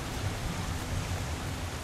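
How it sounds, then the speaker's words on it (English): Steady, dense rushing water from a waterfall in the video game Uncharted: Drake's Fortune, a continuous broadband roar heard alone at moderate level throughout. "It's a pretty waterfall."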